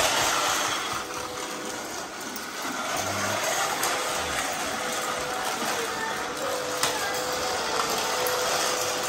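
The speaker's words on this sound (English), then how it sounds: "Good hoovering going on here, Nelly." A vacuum cleaner hoovers steadily in a home, giving a continuous, loud broadband roar with slight fluctuations throughout and no talking.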